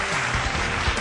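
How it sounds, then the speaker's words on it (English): Audience at an awards ceremony breaking into applause, a dense, loud, steady wash of many hands clapping close by, with no voices over it. "A big round of applause, guys."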